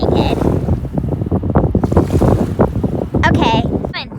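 Strong wind buffets the microphone at a beach, a loud continuous rumbling roar with gusts throughout.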